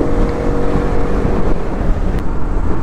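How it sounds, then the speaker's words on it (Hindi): A sport motorcycle, a Yamaha R15 V4 or Bajaj Pulsar RS200, revs and runs on a road in Jammu, a loud steady engine drone with throaty low rumble and wind buffeting on the microphone, close throughout. "आवाज बड़ी मस्त है बाइक की यार।"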